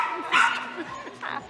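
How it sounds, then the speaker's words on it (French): A 2-year-old male Bobtail (Old English Sheepdog) whines and lets out a couple of short barks up close at a dog show, while a person talks over it. "c'est un mâle bobtail de 2 ans"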